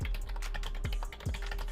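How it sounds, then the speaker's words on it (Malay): Rapid typing on a Furycube IP98 mechanical keyboard just after a liquid spill, a dense steady stream of close keystroke clicks with a few heavier thocks, no voices. "Jom kita try keyboard ni okey ke tak lagi."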